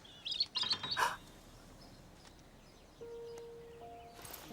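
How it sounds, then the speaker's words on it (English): A robin chirps in a short burst of bright, high calls near the start, followed by fainter thin tones against a quiet outdoor background. "That's a robin, JoJo."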